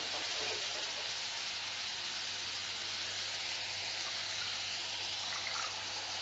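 Water is poured into a pot of tapioca cooking with crushed coconut and turmeric, making a steady, hissing gush that runs evenly at moderate volume, with a small clink at the very end and no voices.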